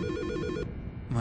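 A telephone rings in the video game Silent Hill: Shattered Memories, a loud, close electronic trill that pulses, breaks off briefly, then starts again.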